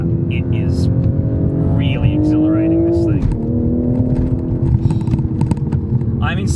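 Exhaust note of a 2020 Toyota Supra driven in sport mode, a loud continuous engine drone that shifts pitch as it changes gear, heard from inside the car.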